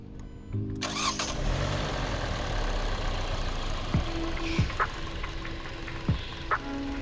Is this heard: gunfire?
no